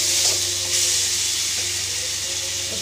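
Small cubes of paneer frying in a pan for a chana dal dish, a loud, continuous close-up sizzle with faint stirring taps.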